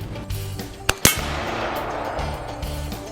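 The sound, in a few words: AR-15 rifle gunshot hitting a coated metal disc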